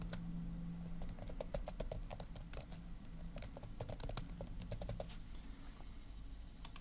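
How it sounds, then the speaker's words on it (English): Fingers typing on a computer keyboard while entering notes into patient records software, a steady run of quick, close, clicking keystrokes with brief pauses and no talk. "you can type in whatever you need to type in."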